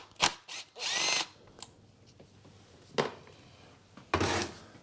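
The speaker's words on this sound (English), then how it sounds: "I'm going to start by undoing this Torx 30 bolt up here." Cordless power tool undoing a Torx 30 bolt on the oil filter housing of a 2011 VW Golf 1.6 TDI diesel, several short close whirring bursts with pauses and light clicks between.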